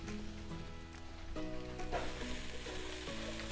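Carrot added to onions already softened in a pan, giving a steady, fairly quiet sizzle and crackle throughout, with a few small stirring bumps and no talk.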